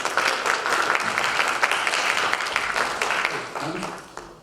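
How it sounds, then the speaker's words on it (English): A small audience at an evening storytelling event applauds a storyteller with close, steady clapping that eases off toward the end. "So a round of applause for Kim Weaver."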